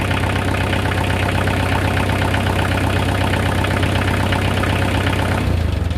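A tractor over thirty years old idles with a steady, loud, rumbling diesel drone that runs unbroken and close, then its sound shifts briefly near the end.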